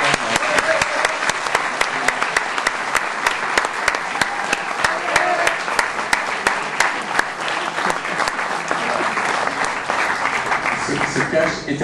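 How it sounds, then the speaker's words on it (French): A festival audience bursts into sustained applause, dense clapping from many hands, loud and continuous for several seconds, with some voices mixed in. "Lionel Soukas, je vous demande de l'applaudir"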